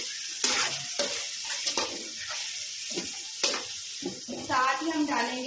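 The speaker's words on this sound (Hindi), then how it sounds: "इसको फ्राई करना है।" Chicken frying with ginger garlic paste in a pan, a close sizzle with stirring scrapes and clatter, heard in bursts between bits of speech.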